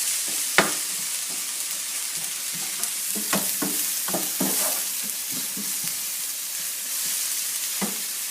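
Noodles frying in a pan on low heat with salt sprinkled in, stirred by a utensil that gives repeated sharp scrapes and clacks over a steady, close sizzle.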